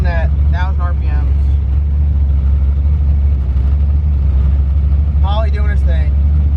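The LS-swapped twin-turbo Fox Body Mustang idles at around 1000 RPM, a deep, steady, loud rumble on a street. A person talks briefly over it at the start and again near the end.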